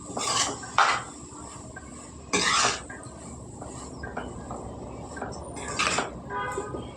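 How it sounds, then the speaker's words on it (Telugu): A spoon scrapes and clatters against a pan while chili powder and green chillies are stirred into a cabbage and egg curry, with several sharp metallic bursts over a steady low background hiss. "కారం పచ్చిమిరపకాయలు బాగా కలిపేసుకోండి కారం కలిసేలాగా"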